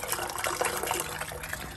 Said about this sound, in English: So the water's going down the drain